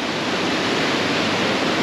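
A waterfall cascade tumbles beside a fountain, making a steady, dense rush of falling water that holds an even, close roar with no breaks.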